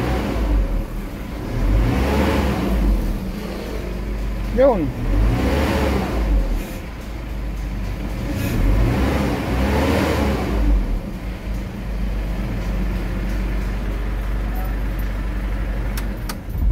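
An Isuzu 4JJ1 diesel engine in a Trooper with about 172,000 on it revs up and down in several swells over a steady idle rumble, heard up close, with someone talking briefly.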